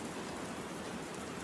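Rain falling as a dense, even patter of raindrops, a steady hiss-like wash of small impacts at low level with no voices.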